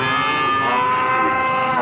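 Cattle at a livestock market give a long, loud, sustained moo, close by and heard alone for nearly two seconds.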